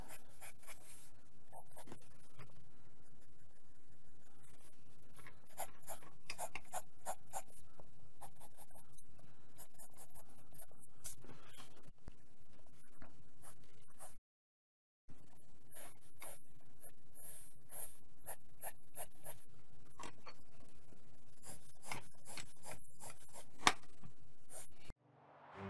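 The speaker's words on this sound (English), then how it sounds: "we can simply go in with an eraser and very quickly" An eraser rubs out a pencil drawing of a cube-shaped product on paper, making fast, scratchy back-and-forth strokes that continue steadily for about 25 seconds, broken by one short pause.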